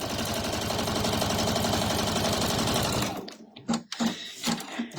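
A sewing machine stitches a bag panel in a steady, fast mechanical rattle for about three seconds, then stops, leaving a few soft handling clicks and a voice.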